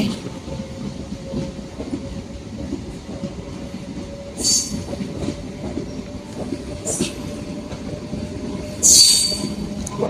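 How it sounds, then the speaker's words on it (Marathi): A train rumbles steadily past, wheels clattering and occasionally squealing with brief bright hisses, moderately loud and continuous with no voices. "ट्रेन सुटलेली आहे"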